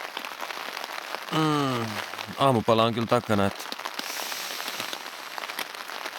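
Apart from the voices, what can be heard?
rain falling on hammock campsite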